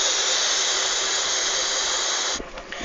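Steam and leftover water drain from the pipes of a steam locomotive in Virginia with a loud, steady broadband hiss that cuts off abruptly near the end, leaving faint dripping and ticking.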